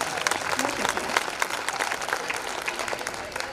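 An audience at a women's day poetry gathering claps together in unison, dense rapid hand claps with crisp individual hits, loud and continuous from start to finish.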